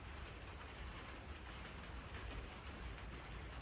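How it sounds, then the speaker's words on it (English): Soft, steady patter of light rain on a house roof, a constant hiss-like wash heard alone at low level with no talk. "There's a little rain noise on my roof."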